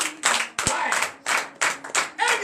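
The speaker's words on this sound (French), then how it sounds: "Donnez l'acclamation à Jésus." Congregation at a morning prayer service clapping in short bursts with loud acclaiming voices, several rhythmic waves of claps and cheering close by.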